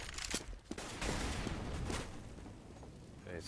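Gunfire in a Counter-Strike match on the Cobblestone map during a FACEIT League 2015 qualifier between Flipsid3 and PiTER, a rapid dense burst of shots from several weapons, fairly quiet and blended with game noise.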